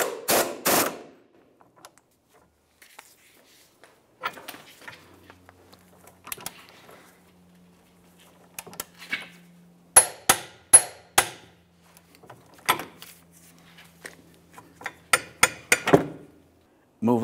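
A wrench tightens the mounting nut on a 2009-2019 Ford Flex rear CV axle, giving sharp metallic clicks and knocks in uneven bursts with quiet gaps between them. The clicks cluster densely toward the end.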